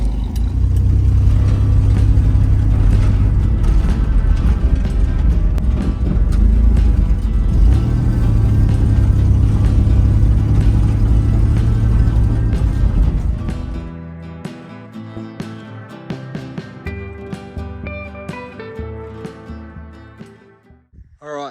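A 1984 Holden VK Vacationer wagon engine runs and drives with a loud, heavy rumble that cuts off after about fourteen seconds, leaving quieter scattered clicks and faint knocks.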